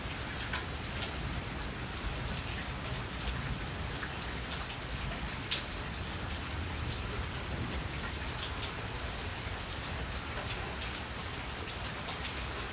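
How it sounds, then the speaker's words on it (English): Steady heavy rain pours down without letup through a stormy night, a dense close hiss with scattered drops, any thunder lost beneath the downpour. "It rained so hard, but that was some good lightning and thunder that went on."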